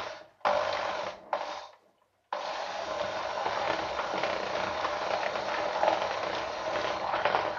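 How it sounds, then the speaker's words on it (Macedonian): An electric hand mixer whips a cake filling made with cherries, starting with two short bursts and then running continuously with a steady whirring buzz, close by and fairly quiet. "Матам со миксер."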